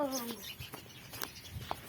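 Soft pigeon coos and brief bird calls, fairly close, with faint rustling in between.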